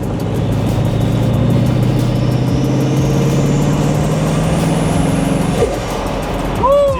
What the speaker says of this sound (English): Do you hear the engine spooling?